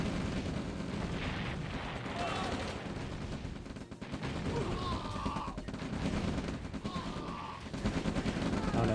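Yak aircraft strafing in OpenRA Red Alert, a dense, steady wash of rapid game gunfire and explosion rumble held under a continuous noisy battle mix for several seconds.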